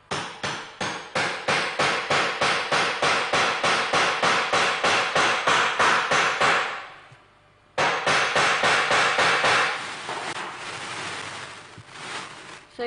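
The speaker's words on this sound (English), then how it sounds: "So you bring out your puncher, and then you place it on that part that you want to pin. Then you hit it to pierce a hole." Hammer blows on a metal puncher piercing a hole for a rivet, around two dozen sharp evenly spaced strikes, then a brief pause and a second run of blows that fades into lighter taps, loud and close.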